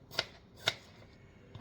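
A knife cuts vegetables on a board while preparing a traditional Jewish salad, making three crisp, close, quiet chops spaced about half a second and then nearly a second apart.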